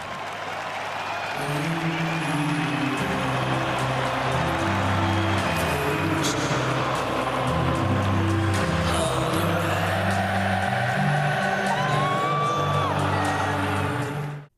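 A huge football crowd at Anfield stadium sings in unison, a broad sustained chorus with held notes, steady and loud for the whole stretch before cutting off abruptly.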